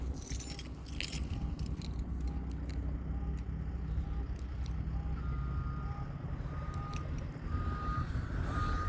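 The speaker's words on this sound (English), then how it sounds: "I hear an alarm going." A steady electronic beeping repeats at even intervals over a low rumble of idling vehicles nearby, with a faint jingle of keys early on.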